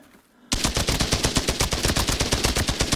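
Rapid automatic gunfire in the shooter game Arena Breakout Infinite bursts in after a brief quiet moment and keeps hammering loud and evenly for the rest of the stretch.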